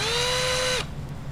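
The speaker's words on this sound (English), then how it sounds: "I'm gonna chuck that into my drill. And then I'm gonna run this thing through." A power drill spins a brake linkage part for a Tekno NB48 2.1 RC buggy, giving a loud, steady high-pitched whine that cuts off abruptly, followed by a quiet room hum.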